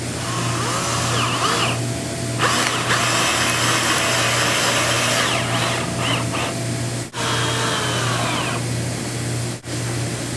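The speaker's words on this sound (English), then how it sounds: "take our Robertson bit, put it on the drill" A power drill with a Robertson bit whirs loudly and continuously with rising and falling pitch as it drives screws into a speaker mount, with a couple of brief pauses.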